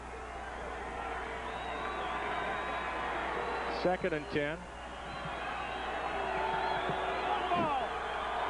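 Noisy home crowd at a 1995 college football game between the UND Sioux and NDSU Bison, a steady broad roar filling the stadium throughout, swelling and dipping under a play-by-play announcer's continuous commentary.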